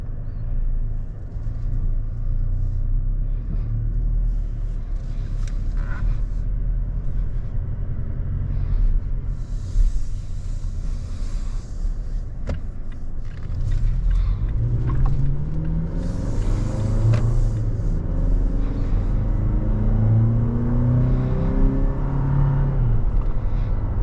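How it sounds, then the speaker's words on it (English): Base-trim 2022 Toyota Tacoma pickup on the move, a steady low engine drone and road rumble heard from inside the cab, continuous and fairly loud with shifting tones later on. "driving this 2022 Toyota Tacoma drives"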